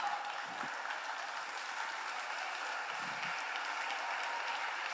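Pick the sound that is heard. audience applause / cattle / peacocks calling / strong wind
audience applause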